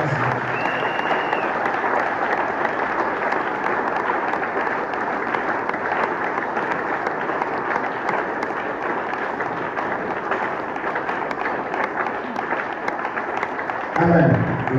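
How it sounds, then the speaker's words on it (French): Sustained applause from a church congregation during a Sunday worship service, broad and steady for most of the stretch, with a brief higher tone near the start and a shift to a voice near the end. "Acclamez pour la gloire."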